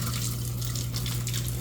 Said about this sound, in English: Now we got water flow.